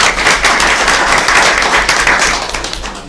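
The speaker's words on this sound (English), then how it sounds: "Let's give them a round of applause." Loud, close applause from an audience at a school awards gathering, a thick continuous patter of many hands clapping.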